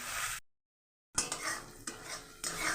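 Tomato gravy is stirred in a pan with scraping, knocking spoon strokes over a soft sizzle, broken by a short silent gap.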